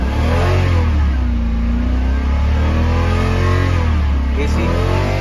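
A Lexus LS400 third-generation sedan's engine revs steadily and loudly throughout, with a continuous throaty drone and rising and falling pitch as the accelerator is pressed, while a voice talks faintly underneath.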